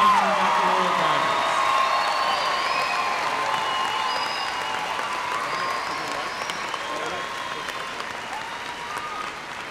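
A spring commencement crowd applauds and cheers for May baccalaureate graduates, with loud, continuous clapping, scattered whoops and a few voices that ease off gradually.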